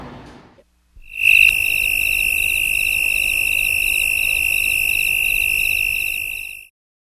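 A simulated tinnitus tone imitating a cicada: a piercing, steady high-pitched electronic whine with a fast pulsing buzz, starting abruptly after a brief quiet moment and holding loud and unbroken for about five seconds before cutting off.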